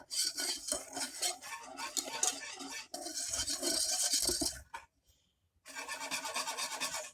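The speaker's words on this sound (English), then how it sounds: "the whisk helps break up all the little lumps of flour" A whisk scrapes and rasps briskly through chocolate cake batter to break up flour lumps, a steady close-up scratching rhythm with a brief pause near the end before resuming.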